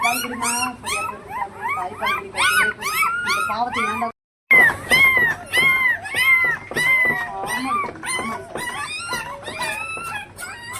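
A weak, sick puppy whimpers and cries almost without pause, with repeated high, wavering whines close by and one brief silent gap, while a person talks over it.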